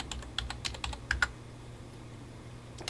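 Computer keyboard keys tapped while entering a measurement into 3D drawing software, a quick burst of about ten close, light clicks in the first second and a half, then near silence and one last tap.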